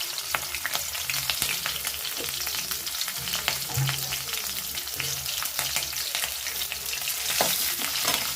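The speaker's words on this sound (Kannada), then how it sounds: "ಫ್ರೈ ಮಾಡ್ಕೊಳ್ಳೋಣ ಚೆನ್ನಾಗಿ ಎಣ್ಣೆನಲ್ಲಿ." Green chillies and chopped vegetables fry in oil in a pan, loud close sizzling with repeated stirring scrapes and clatters running through the whole stretch.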